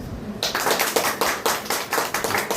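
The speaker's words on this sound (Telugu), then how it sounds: "క్లాప్స్ కొట్టండి" A group of people clapping in rhythmic unison after a short quiet lead-in, claps landing in an even beat, moderately close.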